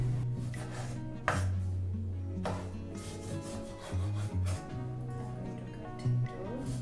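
A knife cuts garlic and ginger on a wooden board, making a few sharp chops and rubbing strokes over a low steady hum.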